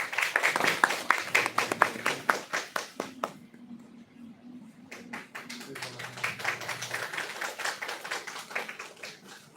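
Audience applause at an academic conference keynote session, scattered and uneven at first, dropping briefly to a few sparse claps, then picking up again, close and moderately loud in a hall with a faint background hum.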